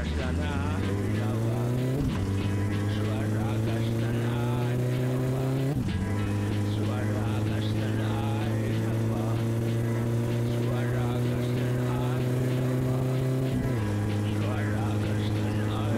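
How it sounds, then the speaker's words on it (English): A car accelerating hard in My Summer Car, a loud, continuous engine drone climbing in pitch through each gear, with abrupt drops at shifts, steady and close for the whole stretch. "With a clean start without a wheel spin, the car turned out to be slower by 4 seconds."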